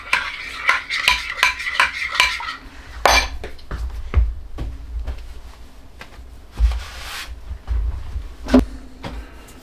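A spoon stirs powdered breakfast burrito mix in a bowl, scraping and clinking against the sides in quick repeated strokes up close, then slowing into a few scattered taps and knocks.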